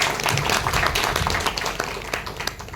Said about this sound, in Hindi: मैं चाहूंगा कि तालियों के साथ इनकी पदोन्नति का स्वागत किया जाए।